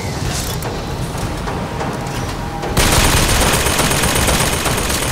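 Rapid automatic turret fire in Bioshock Infinite, a loud, dense stream of bullets that surges in intensity halfway through and keeps hammering to the end.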